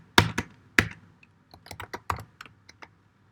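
Typing on a computer keyboard, with a few firm key presses followed by a quicker run of lighter taps, close and dry, with no talking.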